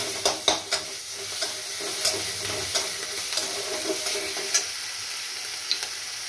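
Ripe green chilli paste frying in a pan, giving a steady soft sizzle with sharp clicks and scrapes of a spatula stirring it, close and fairly quiet.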